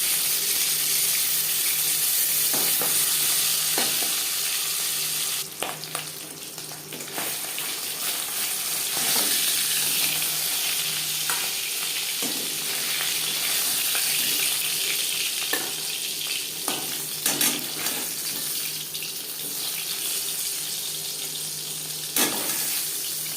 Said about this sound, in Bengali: তৈলাক্ত মাছ ভাজা করার সময় ফাটে